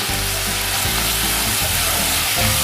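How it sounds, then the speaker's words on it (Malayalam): Capsicum and onion sautéing with garam masala and Kashmiri chilli powder for a tofu stir fry, a loud dense sizzle filling the pan with constant scraping and stirring, close up. "നന്നായിട്ട് വഴറ്റും. ക്യാപ്സിക്കം ഉള്ളിയും ഒന്ന് വഴന്ന് വന്നിട്ടുണ്ട്."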